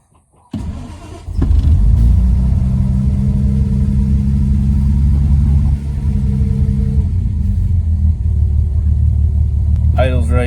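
A 1960 Jaguar MK2 engine cranks briefly, catches and settles into a loud, steady idle close by, with a voice speaking near the end.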